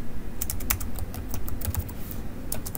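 Rapid typing on a computer keyboard while writing notes on an engineering drawing, a steady run of close, crisp key clicks with uneven rhythm over a low background hum.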